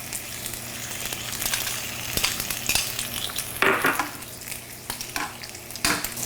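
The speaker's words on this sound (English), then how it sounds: "And then I'll add the shallots to this side over here" Shallots sizzle and crackle steadily in a hot pan, close up, with intermittent scrapes and clicks of stirring.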